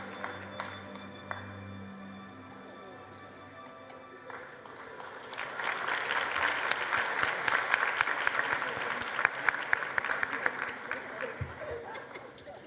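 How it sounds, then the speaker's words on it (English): Applause from the audience at a matric results announcement, honouring the top public-school learner. It begins sparse and scattered under some talk, then swells into loud, dense clapping for several seconds and stays sustained to the end. "Can we please give her a round of applause?"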